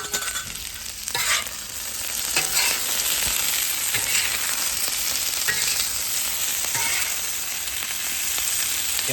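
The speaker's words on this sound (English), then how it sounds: "we're gonna toss our veggies a bit" Veggies with chili lime seasoning sizzle loudly and steadily in a pan, with occasional tossing scrapes and clatters close by and no talking.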